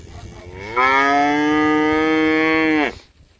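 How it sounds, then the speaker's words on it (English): A single long, loud cow moo, steady and close, lasting about two seconds before fading out, outdoors in snowy, freezing weather. "every time you walk outside your cows start bellowing at you"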